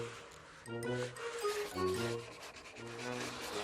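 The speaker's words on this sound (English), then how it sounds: "Maybe you can help me sanding the coffin." Rough, scratchy rubbing strokes of sanding on a wooden coffin come in repeated passes, close by, with a faint hum in the background.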